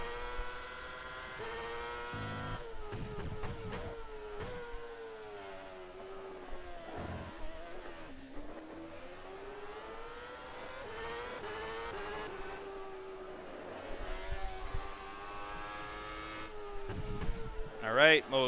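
A 2013 Formula One car in the rFactor 2 racing sim holds a steady high engine whine that rises and falls through gear changes during a qualifying lap, with someone talking over it.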